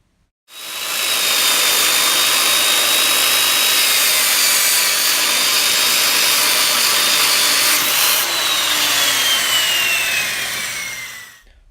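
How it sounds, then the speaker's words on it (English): Power sanding of a walnut and resin desk top, moving from 80 to 200 grit, a loud continuous abrasive whir with a steady tone that shifts slightly in pitch, running alone for the whole stretch. "We started with 80 and sanded it all the way up to 200 grit."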